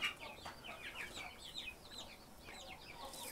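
Kuchin breed chicks chirp steadily around an incubator and heated stoves, many high thin peeps overlapping in a busy continuous chatter that stays at a moderate level throughout.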